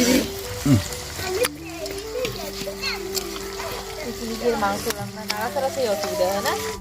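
Meat cooks and gets stirred in a pot over two burning clay stoves, with sizzling, splashing and scraping heard beneath nearly continuous talk from adults and a child.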